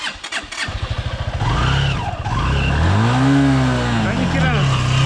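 A Minsk X250 motorcycle starts up with a rapid cranking chug, then the engine catches and revs up and down loudly close by, with people talking over it.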